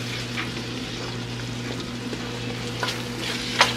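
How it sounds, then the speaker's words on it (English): Okra cooking in a hot pot for gumbo-laya sizzles with a soft, steady crackle over a low constant hum, broken by occasional faint clicks and one sharper tap near the end. "Let me add the okra."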